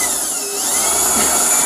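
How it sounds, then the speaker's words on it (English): A power drill whines loud and close at a house, a steady high-pitched running sound with slight shifts in pitch and no speech. "they're drilling at my house"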